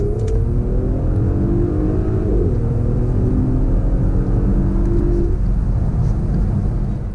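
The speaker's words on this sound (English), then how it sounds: "let's see what time we can get out of it on the 30 to 70 sprint" An Audi SUV, heavier than the S4, accelerates hard through a 30 to 70 mph sprint, with a loud, steady engine drone whose pitch climbs through the gears across the whole run.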